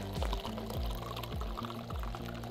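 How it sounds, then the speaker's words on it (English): Liquid poured from an aluminum drinking cup, a continuous close trickle with a rhythmic pulsing gurgle repeating about every half second. "You just do a tap, tap, tap, a little pour."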